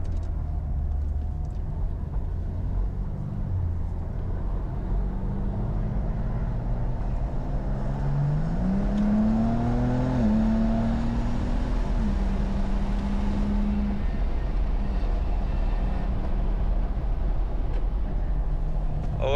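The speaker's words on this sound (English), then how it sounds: "Wow, the car's so smooth." A 2025 BMW M2 driving on a race track, engine heard from inside the cabin with a low steady drone, then revs climbing and shifting in the middle before settling back, with continuous road and tire noise underneath.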